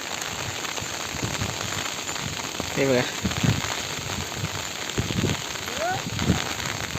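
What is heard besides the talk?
heavy rain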